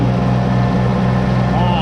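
A gasoline tractor engine runs at a steady, heavy low rumble, loud and close, with no change in pace.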